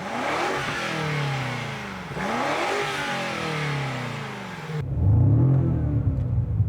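A 2026 BMW M5 in sport mode revs its engine hard, rising and falling twice in close, loud sweeps before settling into a deep, heavy rumble that shakes the car.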